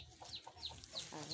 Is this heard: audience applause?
no